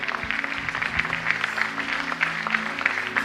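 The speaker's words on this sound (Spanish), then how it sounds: "Denle un aplauso al Espíritu Santo." A church congregation applauding during a worship service, rhythmic clapping with distinct beats running under sustained music and some voices.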